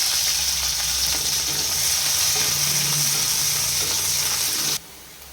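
Chopped ginger, garlic and onion sizzle steadily in white oil in a pan, a loud, dense frying hiss that runs unbroken before cutting off abruptly near the end.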